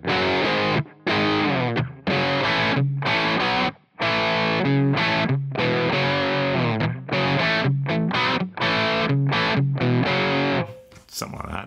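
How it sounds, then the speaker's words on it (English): A Mesa Boogie Triple Rectifier amp simulation on channel two, a vintage crunch setting, carries an electric guitar playing loud, chopped distorted chords and riffs with short pauses between phrases, ending on a sustained note. "Then we've got channel two, which is like a vintage crunch."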